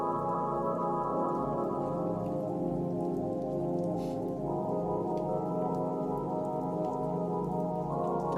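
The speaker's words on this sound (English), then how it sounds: "Can you guys now hear the rainy ambiance music?" Rainy ambiance music plays steadily, with dense rain falling on a surface behind sustained tonal chords that shift slightly midway, loud and continuous with no talk.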